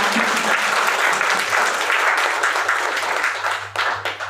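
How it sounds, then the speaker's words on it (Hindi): Sustained audience applause fills a hall at an Ayurveda wellness presentation, a dense, steady wash of many hands clapping at close range for about four seconds, tapering slightly near the end. "एक बार जोरदार तालियां होनी चाहिए आयुर्वेद की"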